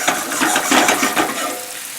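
Skinless salmon sautéing in a pan with rosemary, giving a close, busy sizzle and crackle with some stirring, loud at first and easing slightly toward the end.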